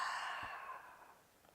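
A soft exhale during a slow-flow yoga breathing exercise, a single faint airy breath that fades out over about a second and a half.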